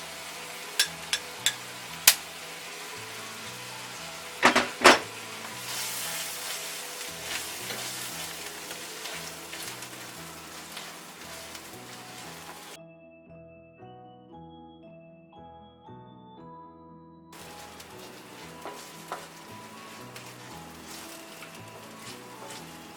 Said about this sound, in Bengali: আমি এটা দশ মিনিট যাবৎ কষাচ্ছি এবং মিডিয়াম আছে